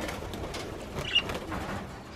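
A bird calls on a farm, a short, faint cooing call set in a steady outdoor background with no talking.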